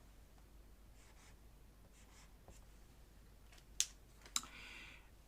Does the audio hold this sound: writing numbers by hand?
yes